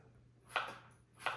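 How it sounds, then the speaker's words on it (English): Two distinct knife chops through radishes on a cutting board, spaced apart, crisp and close against a quiet background hum. "Sometimes chopping up these radishes."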